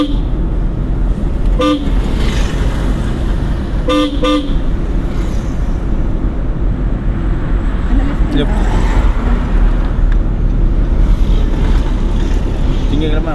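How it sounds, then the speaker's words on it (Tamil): Car driven slowly during a driving-school lesson on a road, a steady engine and road rumble throughout with a couple of short horn toots from traffic, while people talk over it. "பட் வண்டி நிதானமாக ஒரு சிரமப்பட்டு போகுது தெரியுதா"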